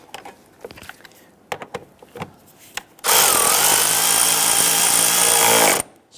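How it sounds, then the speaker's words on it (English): A power tool runs steadily for about three seconds, driving a 10mm bolt during vehicle speed sensor replacement on a 1992-1996 Toyota Camry 2.2L L4, loud and continuous after scattered clicks and handling noises. "Install the 10mm bolt here."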